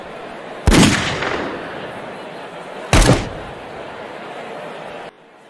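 Two loud gunshot blasts about two seconds apart, each with a ringing decay, stand in for the armed attack on a Punjabi singer and his team, heard alone with no talk.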